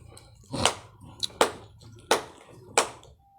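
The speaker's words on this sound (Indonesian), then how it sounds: "tepuk tangan 5 kali" Hands clap sharply a handful of times at uneven intervals, fairly close and distinct against a quiet room, with no voices between the claps.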